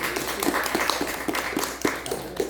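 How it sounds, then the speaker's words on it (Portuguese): A small group claps for a teacher during an online review lesson, producing sparse, light claps at a fairly steady rhythm that stay close and moderately quiet. "Palmas para o Adílio aí"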